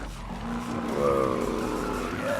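A hot rod car in Need for Speed 2015 drifting and accelerating, a steady engine drone with rising tire squeal as it slides, loud and close with no talk.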